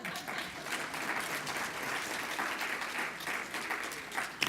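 A studio audience at a cooking competition show applauds steadily, a dense, even patter of clapping at moderate distance that continues throughout.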